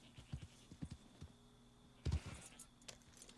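Horse hooves clip-clopping in a western video game, featuring a black American Standardbred: a few soft, irregular hoof thuds near the start, then a louder cluster of steps, fairly faint against a quiet background.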